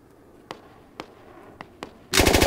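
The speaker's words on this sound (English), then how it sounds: "grenades coming from that compound" In the Squad video game, several distant grenade explosions pop one after another as sharp, separate bangs, then a much louder, sustained burst of rapid blasts erupts at the end.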